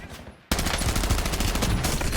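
Sustained automatic gunfire in the battle royale game Warzone erupts after a half-second lull, dense rapid shots continuing loudly to the end.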